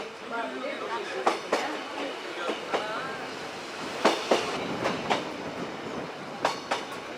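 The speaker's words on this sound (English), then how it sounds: "It's the starting point of the V train, which runs through the most beautiful part of the Yeongdong line transecting Korea's backbone." A V train runs along the scenic Yeongdong railway line through Korea's mountains, a steady rolling rumble inside the car with sharp clicks and clacks recurring at irregular intervals, moderately loud and close, with no one talking.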